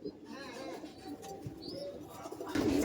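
Pigeons in a racing-pigeon loft give soft, low coos in short bursts nearby, with a louder cooing swell at the end and light background noise.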